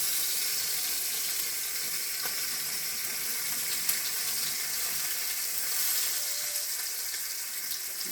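Bacon frying in a pan: a steady, dense sizzle and crackle holding at an even level throughout, with a single faint click partway through.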